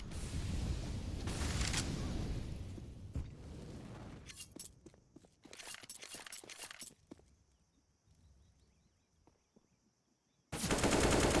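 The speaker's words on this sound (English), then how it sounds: "Will get the headshot onto Vert" Rifle fire in a Counter-Strike esports match comes as rapid bursts of sharp shots. A quieter stretch with scattered single cracks follows, and then a sudden loud blast of noise at the end.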